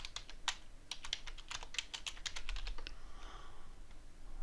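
Quick, close typing on a computer keyboard, a burst of crisp key clicks at an uneven pace that slows and trails off near the end.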